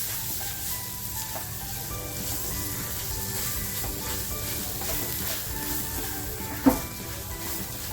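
Chicken masala spices with black pepper fry in a pan with a steady, close sizzle throughout and one sharp utensil clink near the end; no voices.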